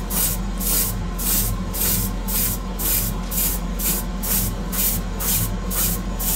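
An airbrush sprays base coat paint onto Greek style vases, a steady close hiss that pulses in a regular rhythm of short bursts as the trigger is worked, with no talking.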